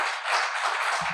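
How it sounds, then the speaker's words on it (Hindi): Brief, steady audience clapping at a foundation day celebration of an IIT Kanpur employee association, a dense patter of claps lasting about a second. "एक बार जोरदार तालियां सर के लिए।"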